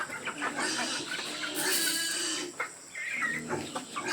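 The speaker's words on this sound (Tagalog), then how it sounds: "Mayroon akong uh, walong inahin. Dalawang lalaki na rooster." Backyard chickens, eight hens and two roosters, cluck and squawk nearby, several birds overlapping in busy bursts, with a louder rooster call standing out midway.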